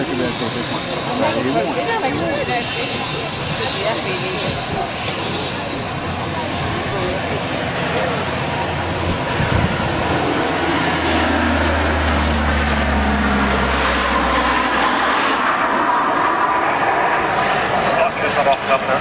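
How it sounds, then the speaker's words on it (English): Propeller aircraft with constant speed propellers at an air show in Abbeyshrule, 1997, droning loudly throughout, the engine note swelling and shifting as it passes, with a deep rumble building near the middle while people talk over it. "Responsive aircraft, because we've got constant speed propellers on it."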